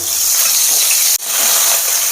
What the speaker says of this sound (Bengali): তো চিকেনগুলো প্রায় আমার ভাজা হয়ে গেছে এবার উল্টিয়ে দেখবো কতটা ভাজা হয়েছে